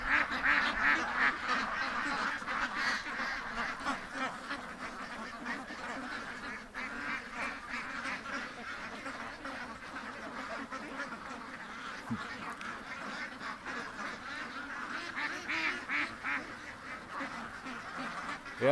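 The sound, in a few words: ducks quacking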